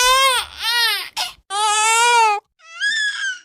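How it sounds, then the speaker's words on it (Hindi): A jackal cub cries in several drawn-out, high wailing bursts with short pauses between them, loud and close, sounding much like an infant's cry. "उनको किसी सियार के बच्चे की रोने की आवाज सुनाई दी।"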